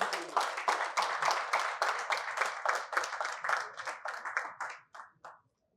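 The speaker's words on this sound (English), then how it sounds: "A round of applause for her." An audience at an annual lecture on Nigeria's 2025 tax reforms bursts into sustained, lively applause for an introduced journalist, the clapping loud and continuous before tapering off into a few last claps.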